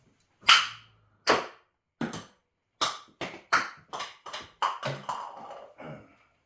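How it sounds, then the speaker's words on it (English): A PETG plastic jar dropped on a concrete floor gives a loud first crack, then a string of sharp bounces that come faster and fainter until they rattle to a stop. "I know how impact resistant PETG plastic can be. See this jar? Concrete floor."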